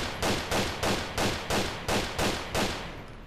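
Gunshots in GTA IV with the LCPD:FR police mod, seven loud evenly spaced shots about half a second apart, close and sharp, with no talk over them.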